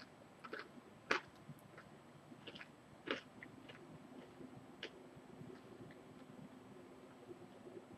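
Close, quiet chewing of crisp Domino's gluten free pizza crust, with a few sharp crunches and bites scattered through soft mouth sounds and no talking.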